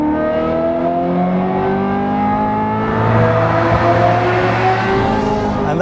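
A Ferrari 355 with a Tubi Capristo exhaust revs hard toward 7,500 rpm, a loud, close, rising howl with rich layered harmonics that swells in the second half, with no speech.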